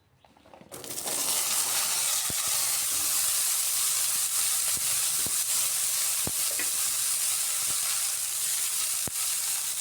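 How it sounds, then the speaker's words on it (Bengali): Pointed gourd (potol) sizzles steadily in hot oil after a loud onset, a dense, continuous frying hiss close by with scattered crackles and pops and no talk, for a vegetarian potol paneer dish. "এবার ওই তেলের মধ্যে পটলগুলো বেজে নিচ্ছি"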